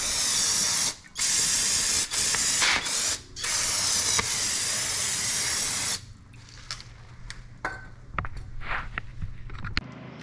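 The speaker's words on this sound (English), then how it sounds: "We'll hit this brake rotor with some brake cleaner." Brake cleaner sprayed from an aerosol can onto the brake rotor of a 2007-2012 Hyundai Santa Fe, a loud steady hiss for about six seconds with short pauses, then fading into quieter drips and workshop clatter.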